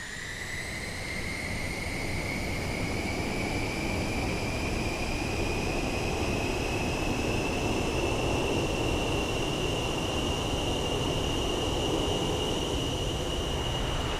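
Top Mach Studios Northrop B-2A Spirit jet engines in Microsoft Flight Simulator throttling up while chocked on the ground, short of full power: a steady, loud, close roar with a whining tone that climbs gradually throughout.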